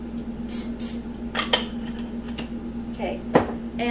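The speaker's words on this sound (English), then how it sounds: "oh, I'm going to spray it." Pam cooking spray hisses into a cupcake tin in a home kitchen, in a couple of short bursts early on. Light metallic clinks and handling noises follow over a steady background hum.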